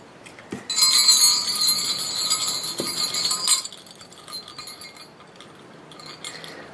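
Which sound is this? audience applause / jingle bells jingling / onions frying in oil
jingle bells jingling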